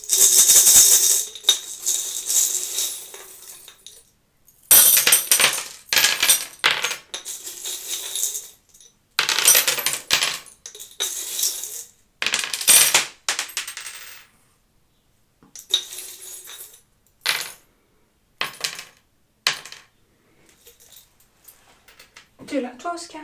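Small metal charms clink and rattle in repeated short bursts as they are handled and dropped, close and fairly loud, with quiet pauses between bursts and no talking.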